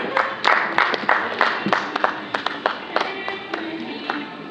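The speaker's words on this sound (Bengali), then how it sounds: "সমবেত করতালির মাধ্যমে আরেকবার তাদের সকলকে স্বাগত জানাই আমরা" An audience at a drama festival applauds to welcome guests, a few seconds of brisk clapping that is loud at first and then thins to scattered claps, with no voices over it.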